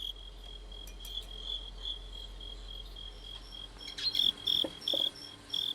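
A prize fighting cricket in Beijing chirps in bursts of high trilling, close up and getting louder and choppier toward the end, with no voices over it.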